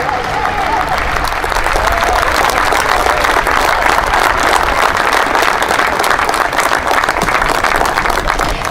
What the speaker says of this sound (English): You may now applaud the new Chief of the South African National Defence Force, General R. Mapyanya